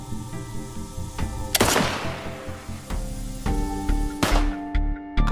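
Several gunshots fired in a film scene at a rebel, sharp cracks spaced a second or so apart over a rumbling dramatic score, each blast loud and close with a ringing decay.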